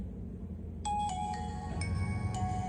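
A Nokia 6300 mobile phone powering up without a SIM card plays its startup melody, a bright sequence of clear electronic tones beginning after a moment of quiet and sustaining close by to the end.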